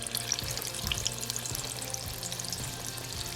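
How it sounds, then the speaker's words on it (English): Breaded buffalo chicken pieces frying in a deep fryer at 375 degrees, a steady close crackling sizzle of hot oil running without a break and no voices. "I have the fryer going at 375"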